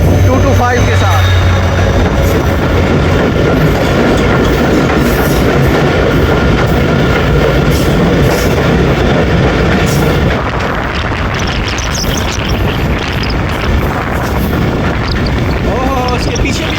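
The Tezgam express train passing at speed past a waiting freight train, a loud, continuous rushing roar with rattling wheel and carriage noise filling the whole stretch, close and unbroken.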